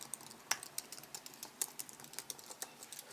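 Typing on a Keychron K2 mechanical keyboard fitted with Gateron Brown switches gives a quick, irregular run of soft keystroke clicks, close up and fairly quiet, with no voices.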